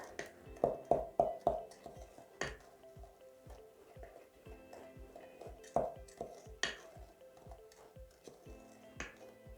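Paint and baking soda are stirred in a container, making a string of quiet, irregular wet taps and clicks. A quick cluster comes early, then sparser knocks follow.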